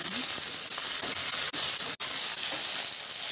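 Spices and dried red chillies frying in a pan, a steady hissing sizzle with occasional crackles and sharp pops, fairly close and continuous throughout.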